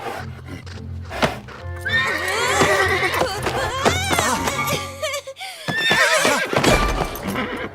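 A cartoon horse whinnies loudly and at length, up close, with a few hoof clip-clops and thuds mixed in, while brief voice sounds come and go around it.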